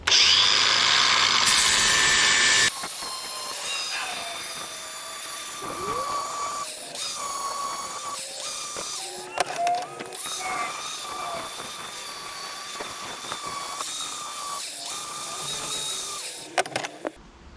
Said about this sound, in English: Been using this flapper disc. I like this for sharpening blades.